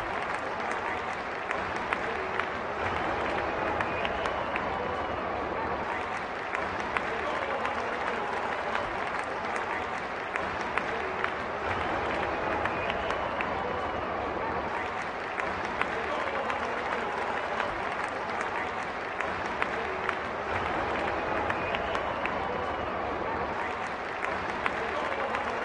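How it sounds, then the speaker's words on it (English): Stadium crowd at a cricket match cheering and clapping as the opening batters walk out, a steady, dense wash of applause and roar that stays loud and unbroken for the whole stretch. "In come the openers, greeted with a loud cheer from the crowd."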